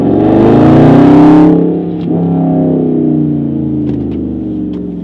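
A Dodge Challenger Hellcat fitted with a Prior Design widebody kit rounds a curve at about 40, its engine a loud, steady, close drone that eases off slightly partway through, with no one talking.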